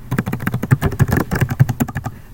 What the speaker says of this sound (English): Okay, and start typing